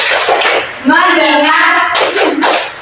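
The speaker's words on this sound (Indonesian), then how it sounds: "Tepuk fokus" A classroom group doing the 'tepuk fokus' clap routine during a micro-teaching lesson, with a few claps framing a sustained chanted voice in the middle, then more claps and voices, loud and close.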